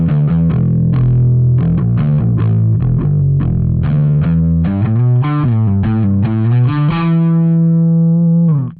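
Electric bass run through the Seismic Bass Suite plugin with drive turned all the way up, playing a loud, heavily distorted riff of repeated picked notes that ends on a long sustained ringing note, with no talk.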